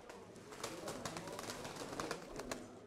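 Pigeons of the smoky-grey tumbler breed at a bird sale coo and flutter in a busy, continuous background, with brief vocal bursts throughout and no clear talk over them.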